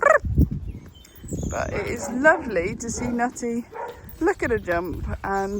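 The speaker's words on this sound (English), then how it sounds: "You'll have to excuse the dogs barking in the background." Dogs bark and yip in the background while someone talks over them, the barks short and somewhat distant, rising and falling throughout.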